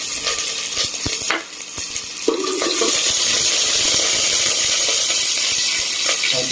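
Cooking oil heats up in a casserole pan for spicy adobo, a few clanks and shuffles giving way to a loud, steady hiss of sizzling oil that fills the rest of the clip.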